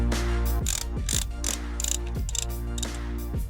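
The ratchet gear on an Oculus Quest 2 head strap being tightened, a series of close, loud mechanical clicks in an uneven rhythm, each with a short grinding rasp.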